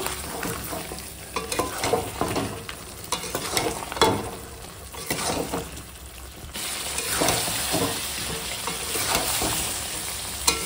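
Mutton with potatoes cooking in sour yogurt in a pan, bubbling and sizzling up close while a spoon stirs and scrapes repeatedly in uneven bursts.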